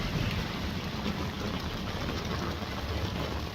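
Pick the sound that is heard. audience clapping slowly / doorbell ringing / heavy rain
heavy rain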